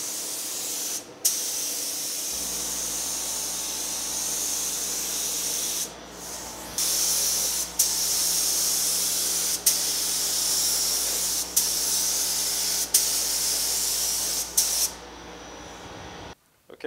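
A spray gun hisses continuously as a final coat goes onto the firewall of a 1965 Chevrolet Malibu SS, the steady spray interrupted by brief trigger releases and restarts at regular intervals.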